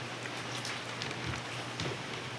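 Heavy rain falls outside during a stormy night while a car sits with its engine running, a steady dense hiss of drops pattering on surfaces that fills the whole stretch without a break.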